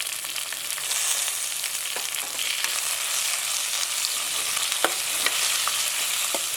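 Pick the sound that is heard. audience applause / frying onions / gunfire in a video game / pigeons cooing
frying onions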